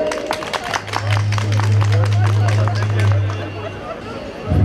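Crowd at an outdoor village association picnic claps briskly as an official is invited to the microphone, with chatter and a low droning hum underneath.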